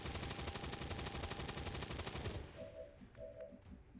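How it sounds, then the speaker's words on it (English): Rapid cannon gunfire rattles continuously in the turn-based strategy game XCOM as soldiers shoot at a zombie, loud and dense for over two seconds before cutting off into quieter game sounds with faint tonal blips. "Let's use some of these cannons to try and kill the zombie."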